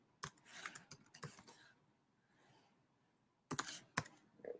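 Keystrokes on a computer keyboard come in two short bursts of close, crisp clicks separated by a quiet pause, with a final few taps at the end.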